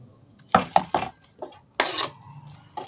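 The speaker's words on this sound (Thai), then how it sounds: "อันนี้กระเทียมปอกเสร็จแล้วแล้วจะหั่น" A knife strikes a cutting board while peeled garlic is chopped, giving a handful of sharp, close clicks and knocks in an irregular rhythm, followed by a short scraping sweep.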